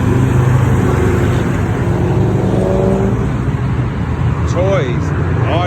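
A Chevrolet Chevelle SS roars past at a car meet and roll in Coon Rapids, Minnesota, its loud engine swelling and then fading against steady crowd and traffic noise, with people talking and cheering over it.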